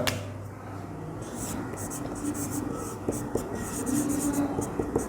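Pen or marker writing the definition of crystalline solid on a board or paper during a chemistry lesson, steady scratchy strokes running continuously under a low background hum.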